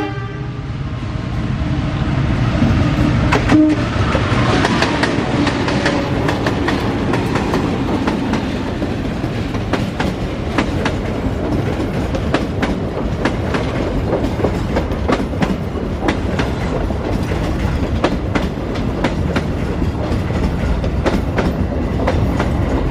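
A Serayu passenger train, hauled by a CC203 diesel locomotive, rolls into a station in Indonesia with a loud continuous rumble and rhythmic wheel clatter that lasts throughout, along with a brief horn early on.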